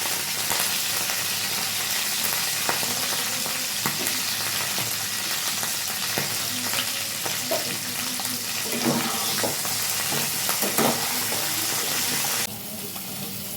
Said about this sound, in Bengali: কফিটা এইভাবে ব্রাউন ভাজা ভাজা করে নেবেন